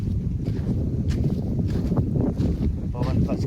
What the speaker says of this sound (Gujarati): પવન ફર્સ્ટ ક્લાસ ઉડે છે.